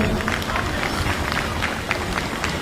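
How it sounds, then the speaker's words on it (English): Audience applause at a police cadet officers' graduation parade, a steady wash of clapping from a large crowd. "We want to show some appreciation in the form of clapping"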